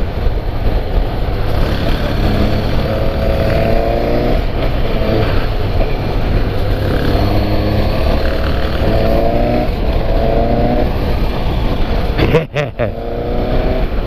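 A Suzuki GSX-S 750 motorcycle on a test ride through São Paulo traffic, its engine rising in repeated acceleration pulls under steady wind and road roar, with a rider talking over it throughout.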